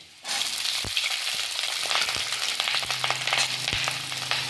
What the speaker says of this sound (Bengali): পেঁয়াজ কলিগুলো হালকা নাড়াচাড়া করে নিয়েছি